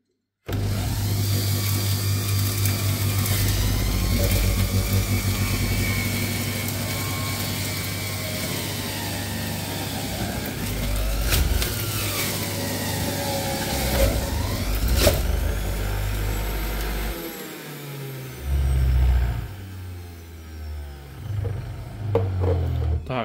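A Severin ES3559/ES3566 juicer runs on its first speed, a steady loud motor drone with strong low hum, shifting in tone as produce is pressed through, then easing and stopping near the end.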